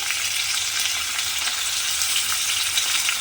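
Tomatoes and salt fry in a pan for a mung bean and potato curry while being stirred, a loud continuous hiss of close sizzling with faint scraping, no voices.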